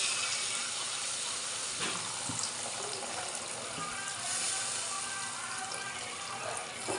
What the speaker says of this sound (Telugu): చింతపండు గుజ్జు అయితే పోసేస్తున్నానండి